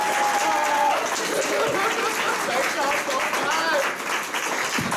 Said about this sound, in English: Can we all just give Coco one more round of applause?